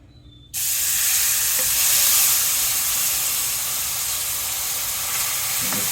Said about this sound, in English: Add the milk in and stir.